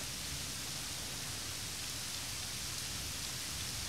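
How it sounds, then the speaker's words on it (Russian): Steady rain falls continuously as a dense, even hiss with no distinct drops or pauses, fairly quiet and unbroken throughout, with no voices. "Как только кончится дождь."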